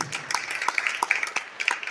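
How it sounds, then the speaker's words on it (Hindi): Scattered claps ring out at a youth retreat worship gathering, a few sharp hand strikes at irregular intervals, moderately close and fairly quiet, with no talk over them. "कम ऑन, एक जोरदार ताली बजाएंगे यीशु के लिए।"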